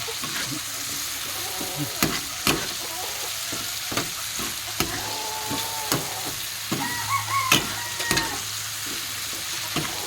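Tomatoes and pork chicharon sizzling in a pan for Filipino munggo, with steady frying hiss and repeated sharp scrapes and clinks of a spoon stirring, close and moderately loud, no talk.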